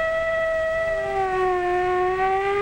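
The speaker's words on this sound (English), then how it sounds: "What does the siren on the fire truck say?" A fire truck siren wails in a long, steady tone that slowly sinks in pitch, loud and unbroken, with no other sounds around it.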